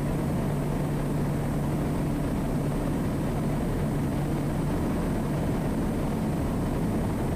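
A Kodiak 100 turboprop aircraft with power up for a go-around, heard from inside as a steady, loud engine drone and propeller hum, continuous throughout with no talk.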